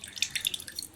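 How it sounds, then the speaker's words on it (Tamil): Lemon juice squeezed by hand drips into a face scrub mix with coconut oil, a quick run of faint, close, wet drops and trickles lasting about a second. "இந்த பாதி லெமனே அதில் புழிஞ்சு ஊற்றலாம்."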